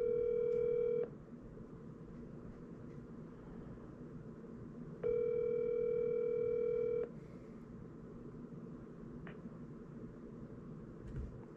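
Two long ringback tones of an outgoing telephone call, each lasting about two seconds with a pause of several seconds between, over a steady low hum, during a real estate cold-calling session.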